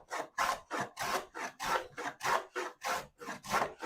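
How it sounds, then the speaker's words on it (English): Rabbet plane cutting a groove in a wooden board held by a holdfast, about ten steady rasping strokes in an even back-and-forth rhythm, close and fairly loud with no talking. "And as deep as I want to go, I just keep planing."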